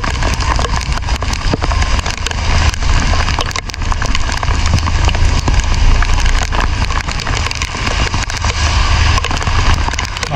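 Heavy rain pouring down in Huế city, Vietnam, a loud, dense, continuous roar of crackling patter that stays constant throughout.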